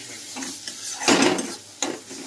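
Masala being fried and stirred in a pan for futko, a low sizzle under scraping spoon strokes, with a louder stir burst midway and another sharp scrape near the end, no talking.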